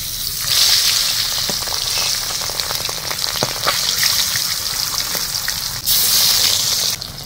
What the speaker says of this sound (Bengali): তেলটা গরম হয়ে গেছে, এখন মাছগুলো ভেজে নেব।